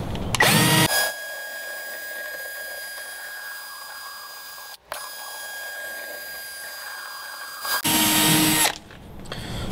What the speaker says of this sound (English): we're just going to go ahead and work around the perimeter, holding the bit at a 45-degree angle